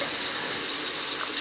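Water runs from a faucet in a steady, loud, close hissing stream, constant throughout with no speech.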